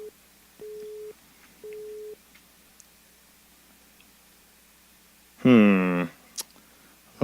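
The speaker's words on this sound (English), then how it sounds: "now it says user busy as I'm trying to call her" A telephone busy signal on an unanswered call sounds as two steady, evenly spaced low beeps over a quiet line, followed a few seconds later by a brief, louder burst of voice-like sound.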